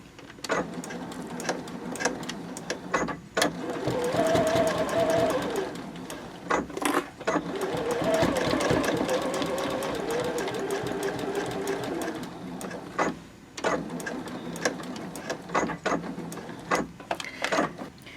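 Sewing machine stitching a 3/8 inch seam with a 3.0 stitch length on a quilted boxy bag, running in steady bursts with brief pauses and backstitch stops, close and clear throughout.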